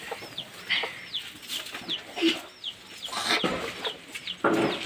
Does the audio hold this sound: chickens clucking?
yes